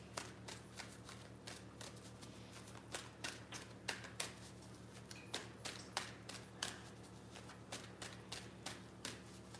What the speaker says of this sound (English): let's give the deck a quick shuffle